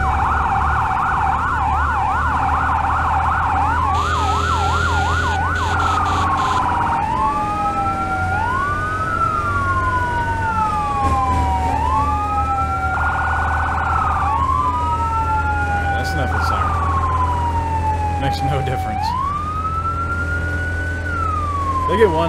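A fire engine siren in Firefighting Simulator wails, sweeping up and down repeatedly with short yelping bursts, loud over a steady low engine rumble.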